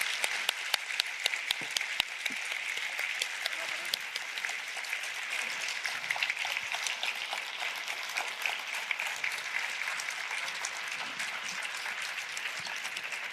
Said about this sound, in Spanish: Pues, presidente, un aplauso.